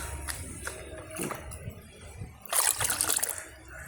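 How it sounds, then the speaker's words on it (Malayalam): Water is poured into a homemade liquid fertilizer mix for plants and vegetables: a few light trickles early on, then a louder splashing pour for about a second near the end. "നമുക്ക് ഇച്ചിരി കൂടെ വേണമെങ്കിലും വെള്ളം ഒഴിച്ച് കൊടുക്കാം"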